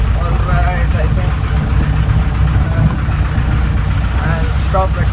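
The steady drone of a 1969 Mahindra Jeep engine with its original gearbox, running continuously while driving, loud and close throughout, with someone talking faintly over the engine noise.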